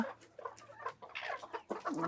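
Several free-range desi hens cluck softly and continuously, their short overlapping calls fairly faint, as if heard from a little distance.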